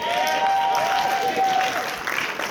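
Wedding guests clap steadily for the newlyweds, a dense continuous patter of many hands at moderate distance, with a faint tonal hum running underneath.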